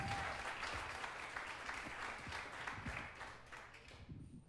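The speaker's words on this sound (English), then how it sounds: "Let's welcome him with a nice round of applause." Wedding guests clap at a pavilion gathering in a seaside park, a steady, moderately distant round of applause that fills the whole moment and tapers slightly at the end.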